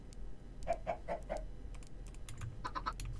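A Minecraft chicken gives a short run of four quick clucks, then a second burst of three, soft and close, over faint clicking like keyboard taps.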